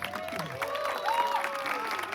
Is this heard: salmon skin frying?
no